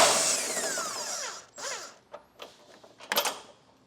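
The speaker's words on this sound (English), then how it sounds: "It's going to be an 18mm socket to get these removed." A power tool with an 18mm socket backs out bolts on the plastic bumper trim of a 2025 Chevrolet Silverado, a whirring drill spin winding down, then short bursts, squeaks and clicks, close and without speech.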